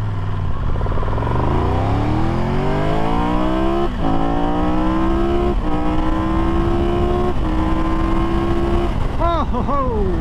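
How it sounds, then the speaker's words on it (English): A 2022 Triumph Tiger 1200 GT Pro motorcycle accelerates hard, its engine note climbing steadily through several gear changes with brief dips between them, loud and close with wind rush throughout. "one more good acceleration run here"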